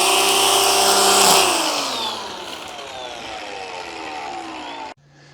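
A DeWalt string trimmer whines at high revs while cutting grass, its pitch sliding downward as it eases off, then cutting out abruptly near the end.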